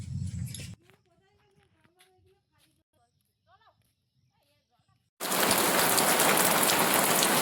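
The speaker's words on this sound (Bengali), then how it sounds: "হঠাৎ বৃষ্টি শুরু হয়েছে" Rain abruptly breaks out after near-silence in a Sundarban village, a dense, loud, steady hiss of drops on surfaces that continues to the end; a brief murmur is heard at the very start.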